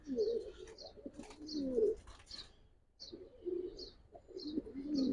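Giribaz pigeons from a Palla-line loft coo in close, repeated bursts, with a few higher chirps breaking through and short pauses between the throaty phrases.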